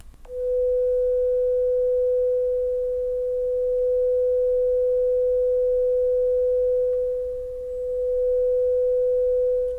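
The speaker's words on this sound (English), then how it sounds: "a tone coming from left to right to left" A steady pure sine test tone holds one pitch for nearly ten seconds, panned in stereo from left to right and back to left, its level dipping briefly mid-sweep against a faint low hum.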